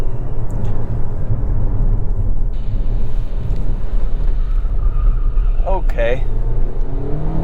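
A 2022 Toyota Corolla Cross driven hard through corners on a twisty road, with a steady loud engine drone and road rumble from inside the cabin, plus a short tire squeal and a voice speaking over it.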